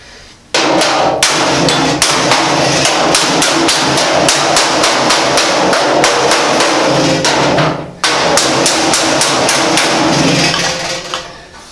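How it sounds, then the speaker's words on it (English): A hammer and dolly pound a very stiff steel door skin during the repair of the Thomas Rocket Car. Rapid, loud, sharp blows repeat steadily, with one brief pause partway through. "I've got to take the dolly and hammer the rest of this over onto here"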